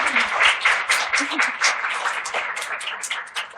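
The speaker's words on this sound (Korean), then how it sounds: "작가님께도 다시 한번 큰 박수 부탁드리겠습니다" A studio audience at a Korean mental-health book talk and public broadcast gives the author a warm round of dense, steady applause that carries throughout.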